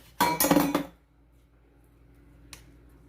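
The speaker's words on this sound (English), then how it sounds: "So now we're going to go ahead and put in our brown sugar. Mix that in there." A utensil scrapes and clinks against a bowl while brown sugar is mixed into a baklava filling: a short burst of clattering strokes, then near silence broken by a single faint tap.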